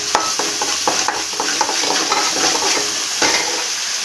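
Ginger garlic paste frying in hot oil with cinnamon and cloves, a steady close sizzle with repeated stirring scrapes and clicks from a pan, no talking.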